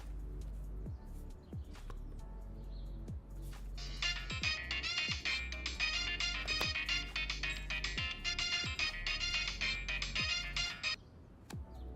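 A phone plays a melodic electronic ringtone for an incoming call. The chiming pattern runs for about seven seconds over a low background hum, with no one speaking.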